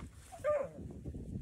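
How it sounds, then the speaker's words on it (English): A younger dog playing with an older dog gives a single short whining yelp near the start, then only a low rumble of background noise follows. "The problem when a younger dog plays with an older dog."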